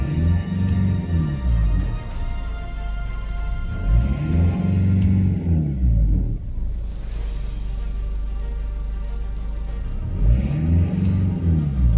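Renault Koleos 2.0 dCi diesel with an injection fault revs up three times, each rise sweeping up and falling back, with a steady idle between the loud bursts.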